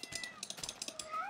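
A cat in the Minecraft video game meows repeatedly in short, evenly spaced calls, close and fairly quiet, with no speech over it.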